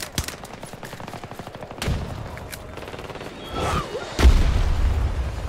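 Rapid automatic gunfire from Battlefield 2042, with bursts of loud close shots, a trailing rattle of distant rifle fire and a heavy booming impact near the end, no speech.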